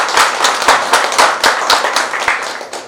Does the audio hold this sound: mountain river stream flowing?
no